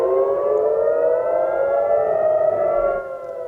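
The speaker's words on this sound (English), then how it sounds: "Sirens blared just moments into 2024" A civil defense siren wails in Israel as rockets are launched from Gaza at the stroke of 2024, a loud sustained rising and falling tone carrying on alone for several seconds before easing slightly.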